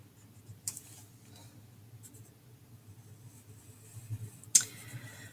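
A pen scratches across paper while an arctan graph is drawn, quiet intermittent strokes with a couple of sharp taps, close and alone.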